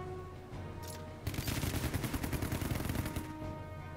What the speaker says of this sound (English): We got a machine gun.